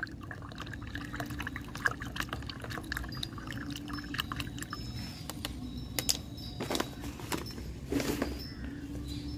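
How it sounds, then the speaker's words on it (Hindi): A spoon stirs a heaped spoonful of calcium nitrate fertilizer into water, making close, steady swirling and scattered light clinks against the container throughout, with no talking. "पूरा भर के स्पून लेना है और इसको अच्छी तरह मिक्स कर लेना है"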